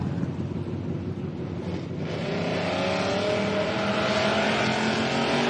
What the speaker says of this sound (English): but there goes the Triton 570